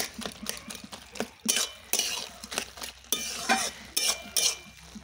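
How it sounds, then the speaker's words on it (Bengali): Fried lentil dumplings and peanuts being mixed with a spatula in a pan, giving repeated scraping and clinking strokes over a light sizzle in an irregular rhythm, close by and with no speech. "এবার ভালো করে আমি খুন্তির সাহায্যে মিশিয়ে নেব।"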